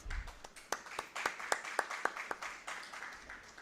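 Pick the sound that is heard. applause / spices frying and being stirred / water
applause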